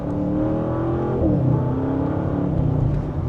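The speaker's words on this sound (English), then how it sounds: "Just a mild acceleration." A 2025 Audi RS6 Avant accelerates mildly in second gear, its engine note rising steadily and close, loud and continuous with a brief pitch shift midway.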